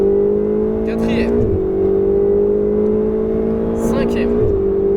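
A Ferrari 488 GTB engine drones at a high, steady pitch as it accelerates at full throttle on a race circuit, with brief dips between gear shifts and a voice talking over it.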